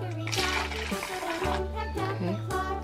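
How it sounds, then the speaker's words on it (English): Warm water pours into a cup for a sugar water density experiment, a continuous splashing trickle that runs under steady background music and a voice. "Okay, let's put some warm water."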